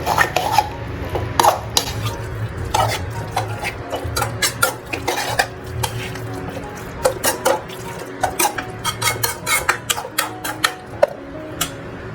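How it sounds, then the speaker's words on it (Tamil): Chicken being mixed with masala in a pan for a South Indian chicken pirattal, giving steady close scraping and stirring with frequent light clinks and taps of a utensil against the pan, continuous for several seconds. "இப்போ என்ன பண்ணலாம், இந்த சிக்கனோட இந்த மசாலாவை நல்லா மிக்ஸ் பண்ணி விட்ருவோம்."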